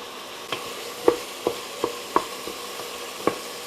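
Chopped onion sautés in a pot with a soft, steady sizzle. A handful of sharp spoon taps and scrapes against the pot stand out clearly, with no voices.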